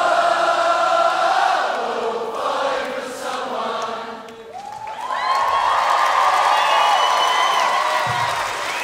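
An audience at a live concert in the Plaza Theatre, Stockport applauds and cheers after a song, with loud sustained clapping and whoops swelling midway and continuing strongly to the end.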